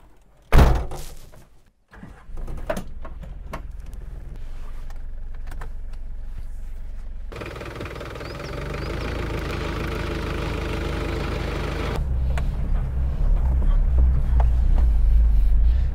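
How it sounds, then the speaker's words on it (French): A 4x4 van pulls away on off-road terrain: a thunk like a door shutting, then a steady engine hum that builds into a rougher, louder drive rumble with rattling toward the end, with no talk. "maintenant, on va faire un petit essai routier"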